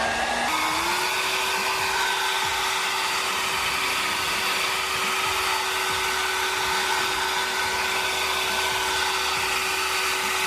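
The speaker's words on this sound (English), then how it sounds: "So going in with my blow dryer." A blow dryer whirs loudly and steadily after switching on, drying a dyed wig, a constant high-pitched airy hum with no voices.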